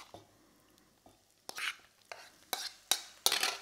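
Lamb going into a pan of toasted, slightly stuck spices for a rogan josh, heard as a series of close scraping and stirring strokes with faint sizzling between them, fairly quiet overall.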